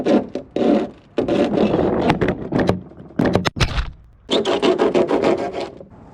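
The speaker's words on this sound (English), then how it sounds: "You use a hacksaw to get the ends." A hacksaw cuts the ends off a small hand-built part for a toy mini-tank, close and loud, in bursts of steady rasping strokes separated by brief pauses and clunks.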